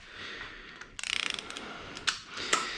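Ratchet clicking in a quick burst of about ten close, crisp pawl ticks while tightening engine bolts to an angle on a BMW N55 engine rebuild, followed by a couple of sharper clunks in a quiet workshop.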